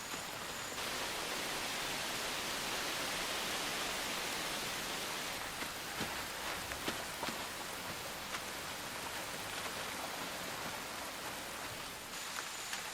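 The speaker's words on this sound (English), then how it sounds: "The rains continue for weeks." Heavy rain pours steadily over the Brazilian wilderness, a dense, continuous hiss of countless drops with a few sharper patters, unbroken and fairly close throughout.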